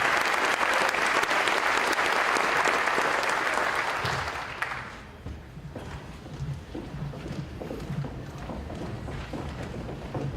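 A school athletic awards ceremony audience applauds the state champion ladies track and field team, loud dense clapping for about four seconds before fading to a quieter murmur of room noise and scattered movement.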